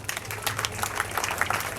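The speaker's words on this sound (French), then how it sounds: "Applaudissons le Seigneur." A congregation claps together at a funeral service, a dense, steady patter of many hands that fills the whole moment with no pause, with a low murmur of voices beneath.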